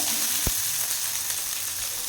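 Green chillies fry in a hot pan with a steady, close sizzle and one sharp knock early on, and no voices.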